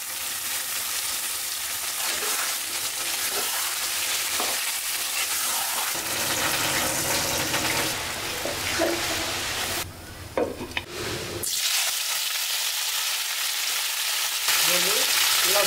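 Potatoes sizzle and fry in a pan, stirred now and then with scraping and clattering, a steady loud crackle running throughout with brief pauses, no talking.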